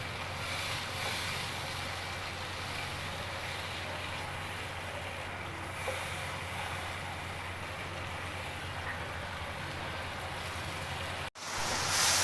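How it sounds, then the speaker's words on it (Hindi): Steady broadband hiss of heavy rain pouring down, constant and unbroken, with no voices, ending in a brief cutoff near the end. "बाहर बहुत तेज़ बारिश हो रही है"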